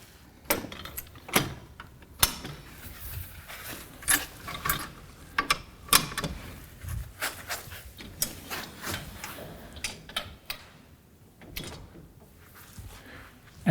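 An Austral double folding frame clothesline is raised, its ratchet mechanism giving a series of irregular sharp clicks and clacks with a few metallic knocks between quieter gaps.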